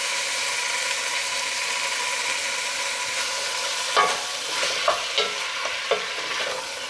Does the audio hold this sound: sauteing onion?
yes